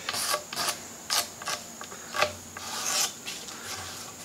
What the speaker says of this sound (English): that brass brush, I can get off most stubborn stuff